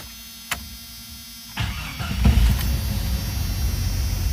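A Jeep XJ engine cranks and catches after a faint click, then settles into a steady, fairly loud idle close by, with no talking.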